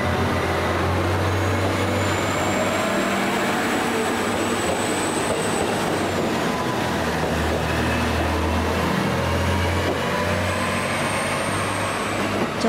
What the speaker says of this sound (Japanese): 6時11分常陸太田駅始発普通列車の出発です。